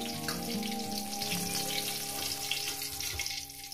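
Eggplant slices fry in hot oil for a Bengali mustard eggplant dish, a continuous close sizzle with a faint hum underneath and no talking.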